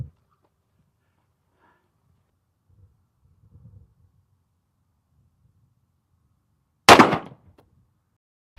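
A single loud, sharp gunshot from a Ruger .480 Super Blackhawk revolver fired at a can, cracking out of near silence after a few faint shuffles and trailing into a short decay.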